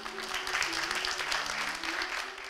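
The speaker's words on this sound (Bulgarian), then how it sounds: "Аплодисменти за нея." An audience at a Balkan folk festival on stage applauds a young singer and her teacher, a full, even burst of many hands clapping with a low hum beneath it.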